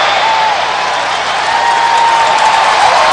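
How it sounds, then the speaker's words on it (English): A large football stadium crowd at a college game cheers and applauds steadily, a loud continuous roar with no clear breaks. "Crowd getting into it."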